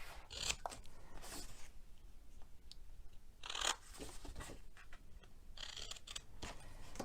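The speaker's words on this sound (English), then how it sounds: "I'm just going to cut these corners off." Scissors snip the corners off a stamped paper Easter treat box in several short, crisp cuts, close and fairly quiet, with pauses between them.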